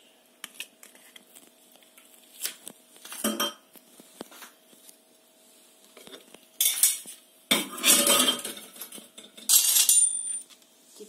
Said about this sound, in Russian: Теперь мы все перемешиваем.